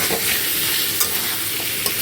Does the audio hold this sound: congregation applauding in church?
no